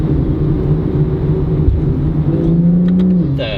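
A tuned BMW 135i engine drones loud and steady from inside the car, its pitch rising under acceleration before a quick gear change near the end, with no talk over it.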